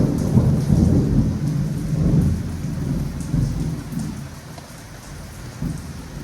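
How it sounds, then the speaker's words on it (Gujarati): Heavy rain pours down steadily with low rolling thunder rumbling underneath, a loud, continuous downpour with swells of thunder throughout and no voices. "કેમ આવે છે જો ભાઈ વરસાદ"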